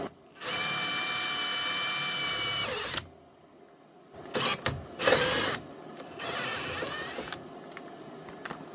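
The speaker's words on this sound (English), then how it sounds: "And I'm going to drill a hole right here." Power drill boring a hole in a mini jeep: a steady high whine for a few seconds, a pause, then short bursts of drilling and a final sustained run, close and loud.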